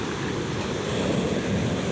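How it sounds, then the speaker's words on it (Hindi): Steady ocean waves wash continuously with a broad rumbling surf and a breezy hiss, close and constant throughout, with no voices. "लहरें होंगी तो थोड़ा आवाज़ होगी"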